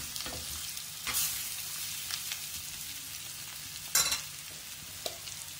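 Mushrooms frying in a covered pan give a steady, soft sizzle close by, with a few brief scraping stirs and clinks over the crackle and no voices.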